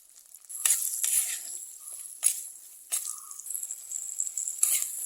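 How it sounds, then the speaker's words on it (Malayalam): Sliced onions and green chillies are sautéed with curry leaves and salt in a pan, bursts of sizzling frying alternating with scraping stirs in an irregular rhythm, close and fairly quiet. "ഇത് നന്നായിട്ടൊന്ന് വഴറ്റിയെടുക്കാം കുറച്ച് ഉപ്പിട്ട് കൊടുത്താൽ നന്നായിട്ട് വാടി കിട്ടും"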